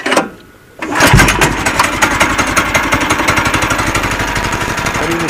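A Predator 6.5 hp engine fitted to a repowered Kawasaki KAF450 Mule starts after a brief quiet moment, then settles into a loud, close, rapid and steady chugging run.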